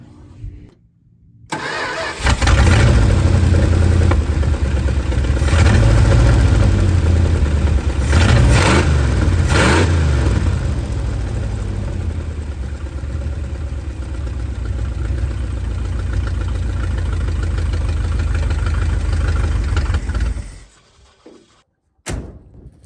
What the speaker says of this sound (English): Well, the exhaust sounds good at least. Wow, lots of smoke. Of course, sounds like a V8.